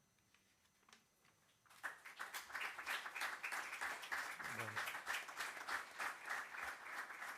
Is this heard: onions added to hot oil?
no